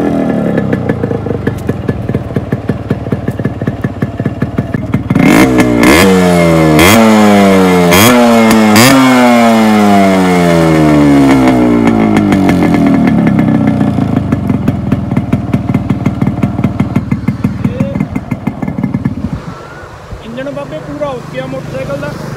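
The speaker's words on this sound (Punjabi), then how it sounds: "ਅਤੇ ਮੈਂ ਸਟਾਰਟ ਕਰਕੇ ਦਿਖਾਉਣਾ ਤੁਹਾਨੂੰ, ਮੋਟਰਸਾਈਕਲ ਦੀ ਸਟਾਰਟਿੰਗ ਚੈੱਕ ਕਰੋ ਪਹਿਲਾਂ।" A Yamaha RX 100 two-stroke motorcycle fires up and is revved in several sharp rising bursts before settling into a buzzing, rattly idle, loud and close throughout.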